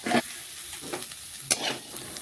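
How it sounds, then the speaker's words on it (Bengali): Bitter gourd being stirred and fried in a pan, with a short steady sizzle broken by a few scraping stirs of the spatula, close and moderately quiet. "এখন নাড়াচাড়া করে নিচ্ছে। দেখুন উচ্ছেগুলো কিন্তু ভাজা হয়ে এসছে।"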